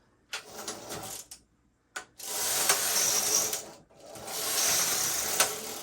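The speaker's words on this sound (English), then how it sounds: "as the carriage comes all the way to the left, pale green gets hooked in by the gadget" A domestic knitting machine carriage fitted with a YC6 colour changer slides across the bed in two long rattling, whirring passes, each a few seconds, with a short clack between and no talk.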